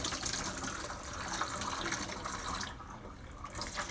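Running tap water gushes steadily into a bowl as noodles are rinsed for homemade mac and cheese, close and continuous, thinning briefly near the end.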